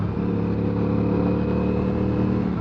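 A 2025 CFMoto CLC 450 motorcycle's engine hums loud and steady close by, a continuous throbbing drone with little change while the rider works the throttle.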